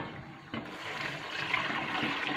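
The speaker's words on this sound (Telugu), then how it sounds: "వాటర్ పోస్తాం." Water rushes and splashes steadily into a vessel after a brief clunk, a continuous pouring sound with no talking.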